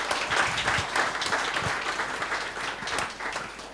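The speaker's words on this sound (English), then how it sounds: "So a round of applause for the panel" An audience at a Mumbai digital marketing conference applauds the panel, a dense crowd of clapping hands, fairly close and steady before thinning toward the end, with little talk.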